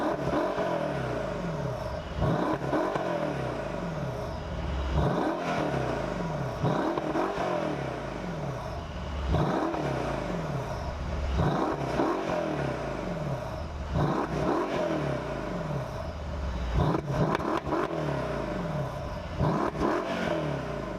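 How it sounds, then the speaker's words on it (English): A 2017 Mercedes-AMG SL 63 engine revs repeatedly through its AMG Performance true dual exhaust with flaps, loud and close, in a steady rhythm of blips roughly every two and a half seconds with growling rise and fall. "So now that we've heard how awesome the engine sounds"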